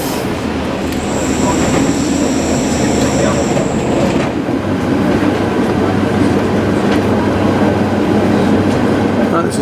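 Passenger train running along the line through Dunston station near the Metro Centre, a steady loud rumble with a high metallic wheel squeal early on, continuous throughout.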